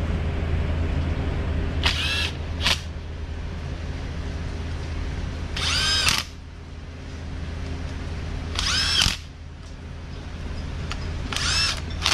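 A power tool drives and tightens bolts during a Skoda, Volkswagen or Audi DSG gearbox overhaul, four loud whirring bursts spaced apart over a steady workshop hum.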